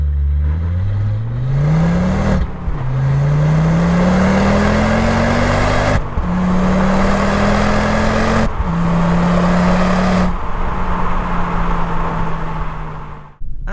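A stock Ford Focus ST pulls hard through several gears on a winter day, its engine note climbing loud and close with each upshift, then dropping sharply at every gear change.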